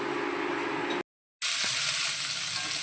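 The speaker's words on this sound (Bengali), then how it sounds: "দেখো এখানে আলু আর কাঁচা কুমড়োগুলো ভালো করে ভেজে নিচ্ছি" Potatoes and raw pumpkin fry in a pan with a loud, steady close sizzle, broken by a short silent gap before the hiss resumes.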